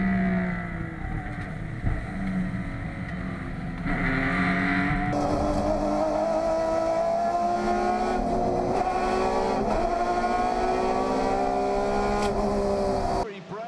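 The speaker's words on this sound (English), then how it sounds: "20 minutes of racing at Oulton Park is go, and John Cleland it is who gets the drop on" 1990s touring race cars racing at Oulton Park, a steady loud engine roar with rising gear-change whine that continues for the whole stretch, with a commentator talking over it.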